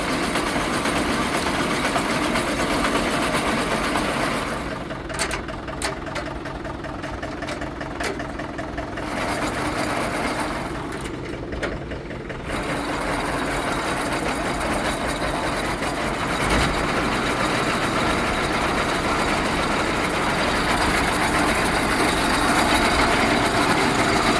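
A heavy-duty geared tractor winch driven by the PTO gives a steady mechanical drone and whir, loud and continuous, with brief dips in the higher noise partway through.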